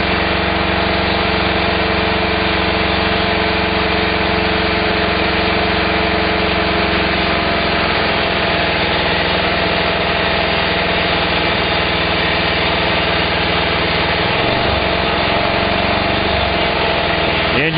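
Internal combustion engine idling on HHO with almost no gasoline left, a steady close drone throughout with a roughening, slightly uneven note in the last few seconds as it nears stalling.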